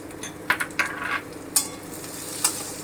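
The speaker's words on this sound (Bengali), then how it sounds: "এই যে আমার পেঁয়াজ অনেকটাই ভাজা হয়ে গেছে এবারে আমি এতে দিয়ে দিচ্ছি ক্যাপসিকামটা" Capsicum tipped into a pan of frying onions and stirred, with a handful of sharp utensil clinks and scrapes against the pan over a soft background sizzle, fairly quiet and with no talking.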